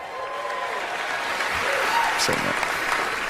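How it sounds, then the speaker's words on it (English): A comedy club audience breaks into clapping, a broad wash of applause rising slightly toward the end, with a few voices in the crowd mixed in. "You clap for that."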